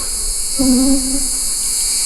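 Around an open beehive, one honeybee gives a short, close buzz of about half a second over a faint, constant background hum of the colony.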